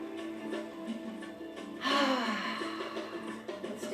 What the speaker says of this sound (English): This time we're going to breathe in through the nose and exhale out.